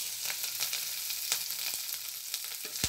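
Chopped onion, garlic and green chili frying in oil left from frying bitter gourd, a close hissing sizzle dotted with quick spatula scrapes and taps.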